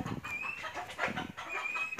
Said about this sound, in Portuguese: o barulho dos galos